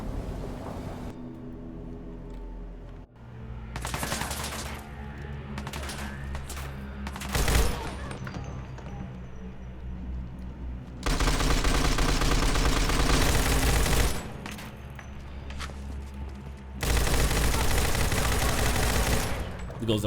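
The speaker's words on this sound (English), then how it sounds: "There goes the modern weapons going off right now." Sustained bursts of modern-weapon gunfire in Fallout 4, a heavy rattling fusillade that rises and falls in dense loud waves, with a thunderous rain-like roar throughout.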